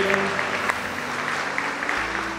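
Congregation applause at a church service, a steady wash of clapping from a gathered crowd throughout, with faint background voices mixed in.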